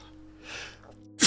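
A single sneeze, a sharp breathy burst at close range, followed by a sudden loud noise at the very end.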